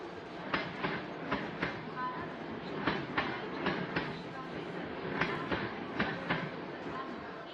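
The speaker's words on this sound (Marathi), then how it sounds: "चल गाडी आली" A Mumbai local train pulling into a station: a steady rumbling roar with a run of sharp, rhythmic wheel clacks, and faint voices murmuring underneath.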